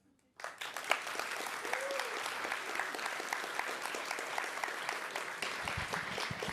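Audience at a React Amsterdam meetup bursting into sustained applause after a talk, steady dense clapping from a crowd that begins abruptly and continues throughout.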